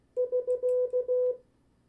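Morse code prosign SK sent as CW tones: a single steady near-pure tone keyed into a crisp run of short dits and longer dahs, clean and isolated with no talk.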